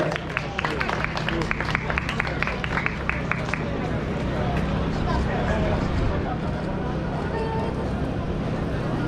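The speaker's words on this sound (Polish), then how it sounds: "Wielkie brawa dla załogi numer 26, która wyjeździła drugą pozycję e, w klasie 2WD." Crowd applause at a car rally finish for crew number 26, second in the 2WD class, with a Peugeot 208 Rally4 at the Rajd Małopolski; dense clapping fills the first few seconds, then fades into crowd hubbub and a steady engine rumble.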